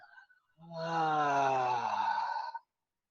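A long, slow, smoothed-out exhale demonstrated as part of a breathing exercise, a steady breathy release lasting about two seconds, close and fairly quiet, with a faint voiced moan-like quality and no talk over it.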